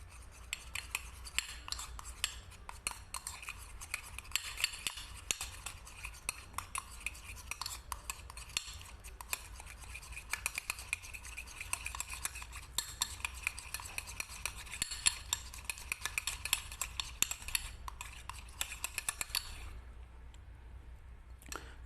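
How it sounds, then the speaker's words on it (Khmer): A spoon stirring a drink mixture in a cup or glass, with continuous scraping and rapid metallic clicks against the sides for about twenty seconds, fairly close, with no talk. "អញ្ចឹងយើងកូរវាចូលគ្នាមកបាទ"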